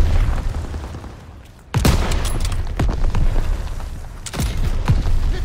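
Ammo boxes blowing up in the video game Call of Duty: WWII, a series of sharp, loud blasts and pops over a rumbling battlefield din, with one big explosion followed by scattered crackling bursts.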